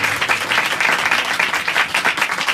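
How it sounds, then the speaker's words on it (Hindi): A church congregation claps again during a sermon, a brief, full burst of loud, continuous applause from many hands filling the room. "एक बार फिर ताली बजा दीजिए खुदावंद के कलाम के लिए।"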